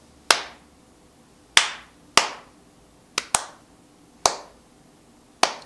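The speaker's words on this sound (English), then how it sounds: "The distance in between my claps are the same." A single person claps by hand seven times in an uneven rhythm, the gaps between sharp, close, crisp claps varying, with quiet pauses between and no talk.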